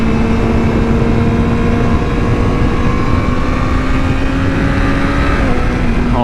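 Steady engine drone of a Yamaha R6 motorcycle while riding on the road, a sustained tone at constant revs with wind noise, close and loud, no talk.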